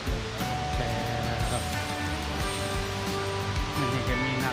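Kuang Si waterfall in Laos gives off a constant broadband rush of falling water. Tonal sounds and crowd noise from tourists sit over the steady roar.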